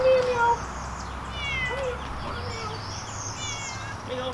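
Outdoor cat meowing in a rural yard, a few short mewing calls near the start and scattered faint cries after, over a quiet outdoor background with chirping birds.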